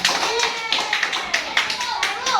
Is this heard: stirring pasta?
no